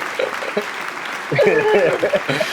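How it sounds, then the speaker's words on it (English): Studio audience cheering and applauding, a steady mid-level roar of claps and whoops that swells louder halfway through, with excited voices rising over it. "They're still cheering for you. They're still cheering."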